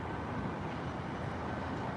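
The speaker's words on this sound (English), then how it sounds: "I hear an engine starting up." A steady, broad roar of an aircraft engine starting up at Heathrow Airport, heard from a distance as a constant rushing rumble with no clear peaks.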